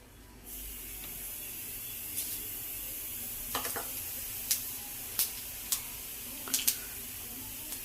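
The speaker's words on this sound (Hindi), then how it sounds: "जीरा डाल लूँगी कढ़ाई में, गैस कर दूँगी अब तेज।" Cumin seeds sizzle in hot oil in a kadhai on a gas flame turned high, making a soft steady hiss with a handful of sharp pops and crackles scattered through it, heard close and fairly quiet.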